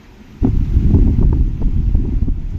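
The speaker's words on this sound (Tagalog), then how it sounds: "Sarap ng hangin, presko." A fresh breeze blows against the old stone walls of Fort Santiago in Intramuros, buffeting the microphone with a steady low rumble that starts abruptly and gusts unevenly for a couple of seconds, loud and close, with no voices.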